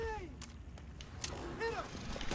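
Gunfire in The Division 2 on Xbox: a few sharp shots crack out over a steady background of game ambience, while voices talk through the exchange.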